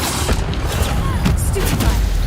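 Spell impacts and bursts from Hogwarts Legacy combat on hard mode, a dense run of booming, crashing hits under loud game noise across a couple of seconds.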